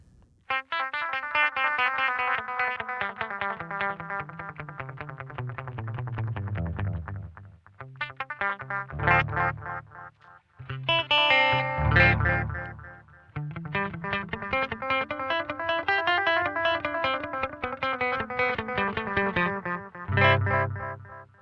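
Electric guitar phrases played through an Aqua Puss analog delay pedal, each note trailed by short repeating echoes, with a warm, slightly smeared tone and no talking.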